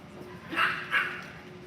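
Two short, high yips from small Yorkie puppies, close and fairly quiet, spaced about a third of a second apart against a faint steady background hum.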